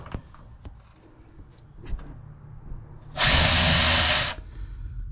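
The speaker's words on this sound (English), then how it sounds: "I am gonna start by loosening these bolts, 1 and 2 with a 1/2 inch." A power tool runs at steady pitch for about a second while loosening brake bolts on a 1963 Ford Falcon, loud and close after a few faint clicks and taps of handling.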